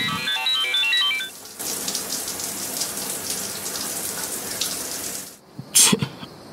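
A ringtone plays for about a second and a half during an outgoing call, a bright repeating melodic pattern. It gives way to a continuous watery hiss, and a brief loud burst comes near the end.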